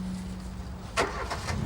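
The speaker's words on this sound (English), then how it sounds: "Today, if we wish to travel over the Mendips to Evercreech Junction, it must be by car." Car engine amid modern road traffic at a former railway station in the Mendips, a low steady hum with a brief louder swell passing partway through.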